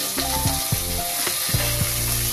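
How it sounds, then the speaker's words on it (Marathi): Carrots, cauliflower, green chilli, tomato and cabbage sizzle and fry in hot oil for veg pulao, with steady loud crackling and several scraping stirs of a spatula in the pan. "कोबी आपण तेलात परतून घेऊया"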